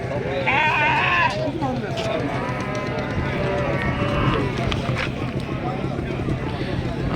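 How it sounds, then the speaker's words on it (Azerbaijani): Sheep and lambs, including twin lambs, bleat at a sheep market in Maştağa, a dense crowd of overlapping calls close by, with people talking throughout. "Ana bala qoyunlardan."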